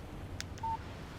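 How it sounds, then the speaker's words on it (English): A phone text message alert in the Alan Wake video game: one short, clean electronic beep after two faint blips, with no talk. "Text message from Barry."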